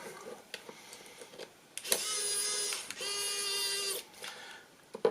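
A NEXTOOL Gemini electric multitool screwdriver whirs in two short motor bursts of about a second each, stopping on its own, with faint clicks and handling noises around them.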